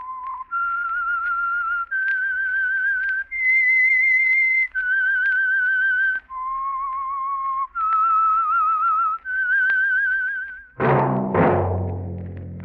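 A lone whistler carries a slow, wavering melody of sustained notes, rising and falling, the theme of the 1947 radio drama The Whistler, ending with a brief burst of orchestral music.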